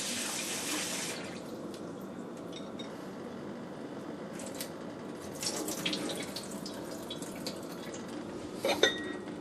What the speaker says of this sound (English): just wash the rice 3 or 4 times until the rice is clear